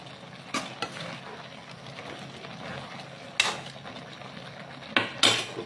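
Vegetables cooked in coconut milk being stirred in a pot, with occasional sharp clanks of a utensil against metal over a soft bubbling simmer.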